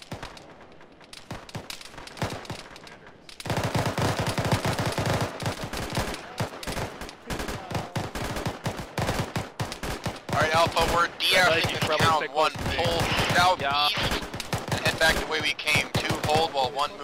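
Sustained gunfire and explosions in a military video game, rapid bursts of machine-gun and rifle fire rolling almost continuously and growing denser and louder toward the end, with faint voices now and then.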